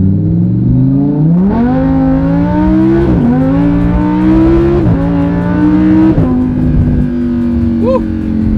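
A Lamborghini Huracan accelerates hard from close inside, its engine climbing through several loud rising revs with sharp pauses at each gear shift, then settling to a steady drone, with a brief voice near the end.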